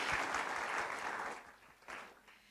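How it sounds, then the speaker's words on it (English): Audience applause for a tech show panel in Mysuru, a dense round of clapping that fades, then swells briefly again before thinning out. "Let's have a round of applause,"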